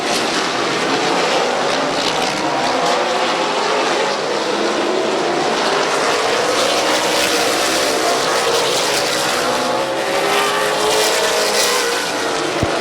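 Stock cars racing at Midvale Speedway, a loud, continuous roar of several engines blending together and rising and falling as the pack circles the track.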